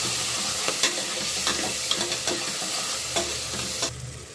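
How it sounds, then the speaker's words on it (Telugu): Curry leaves and tomato pieces fry in a pan as they are stirred, a steady loud sizzle broken by repeated scraping strokes of the spoon, close up and with no voices. "ఇక టమాటా ముక్కలు కూడా వేసేసుకొని ఒకసారి బాగా కలిపేసుకోవాలి"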